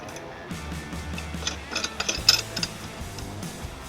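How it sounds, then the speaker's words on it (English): A nut is tightened onto a conical washer on a removable trailer hitch receiver bracket of a 2023 Toyota Sienna, giving a steady run of close, quick ratcheting clicks with no talk. "And then we'll install our nut."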